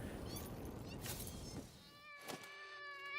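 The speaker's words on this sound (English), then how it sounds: "Oh, freaking cats." Cat creatures in the Satisfactory video game: a few meows and a drawn-out tonal yowl follow a brief patch of noisy rustling, set against quiet game sound.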